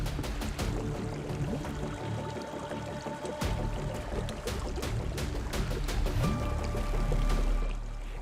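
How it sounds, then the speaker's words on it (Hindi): Water flows steadily through an underground cave passage, a continuous rushing and trickling wash with small splashes and clicks, loud and close throughout without voices. "बहते पानी की ये आवाज कभी भी मौत बनकर बरस सकती थी"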